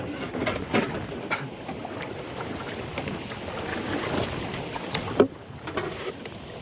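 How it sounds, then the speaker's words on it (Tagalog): Strong wind at sea buffeting a small fishing boat in shallow water, a steady roar of gusts and microphone wind noise with occasional knocks. "Malakas yung hangin."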